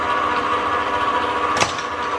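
A steady electric hand mixer whirs on through self-rising flour and baking powder as dry cake ingredients are blended, running loud and close with a short clatter near the end and no talking.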